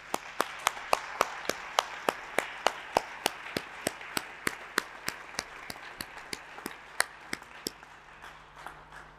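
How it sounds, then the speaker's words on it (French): Audience applause after a closing speech at a conference: a steady run of distinct hand claps over about nine seconds, fairly faint and distant in the room, with no talking over it. "je vous demande de l'applaudir très très chaleureusement."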